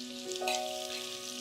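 Thin-sliced onions frying in hot oil with curry leaves for pakoda, a steady soft sizzle running the whole time with a brief brighter hiss near the start.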